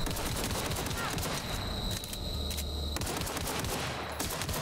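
Gunfire from The Outer Worlds, a sci-fi shooter, fills the scene in a dense, sustained barrage of shots and impacts with a steady electronic tone running underneath, loud and unbroken throughout.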